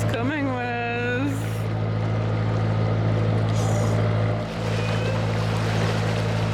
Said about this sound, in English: That big tour boat's literally drifting around the corner, it's going so fast.